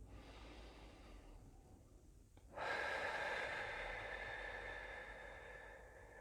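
A single deep inhale during a guided breathing meditation, starting about midway as a soft, steady rush of breath that holds for several seconds against a quiet background, close and alone.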